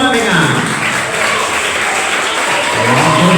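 Audience applause at a school civic outreach session in a hall, a steady, loud wash of clapping with a shouted voice or two riding over it throughout.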